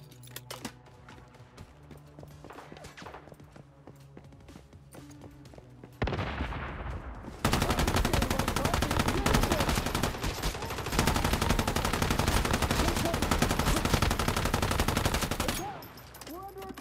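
Automatic gunfire in Once Human: after quieter keyboard-like clicks, a loud sustained stream of rapid shots bursts in and runs for several seconds before cutting off.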